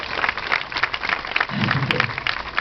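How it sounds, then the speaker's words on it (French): Steady applause from an audience greeting colleagues seated up in the stands, a dense continuous wash of clapping with no pauses. "Peut-être les applaudir, ils sont là, ils sont tellement beaux"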